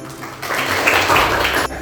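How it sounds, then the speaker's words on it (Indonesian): A chemistry class claps for a student named Rahma, a short burst of steady group applause that swells, holds for about a second and then cuts off. "tepuk tangan buat Rahma"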